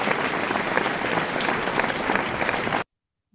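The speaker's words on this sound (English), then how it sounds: "So it's a great round of applause to everyone." Steady, dense applause from members at an online Toastmasters club meeting, sustained for nearly three seconds at even loudness, then cutting off abruptly into silence.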